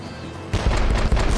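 Ship cannons firing during a naval battle in Assassin's Creed Rogue, a sudden heavy volley of deep booms and rumbling blasts breaking in after a quiet hum and rolling on loudly to the end.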